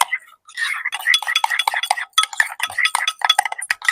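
Small metal spoons clink against a dish while relish is added to a mayo and ketchup sauce, a run of quick, close, bright taps and scrapes with soft sounds between.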